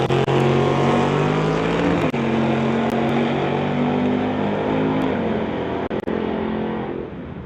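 West Coast outlaw street drag racing cars launch and roar down the strip, a loud, close, sustained engine howl with shifting pitch that fades toward the end.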